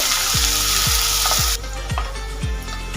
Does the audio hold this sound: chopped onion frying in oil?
yes